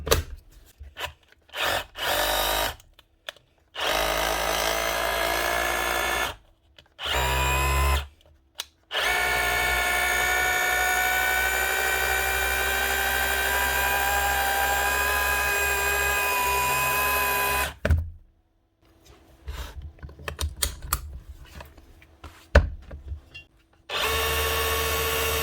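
Dewalt SDS drill hammering, with long bursts of loud, close, harsh rattling broken by short pauses and stop-start pulses and no voices.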